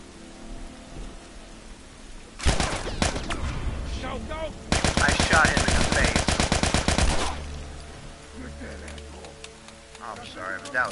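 Rapid bursts of gunfire in The Last of Us, a dense volley followed by a longer sustained stretch of loud shots, with quieter game ambience before and after and some voices in the scene.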